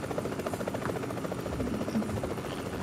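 A helicopter in the video game BGMI makes a close, steady, rapid rotor thrum that holds throughout.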